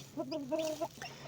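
A hen clucks softly with her newly hatched chicks, a few short nasal clucks and a drawn-out murmuring call, close by in a quiet setting.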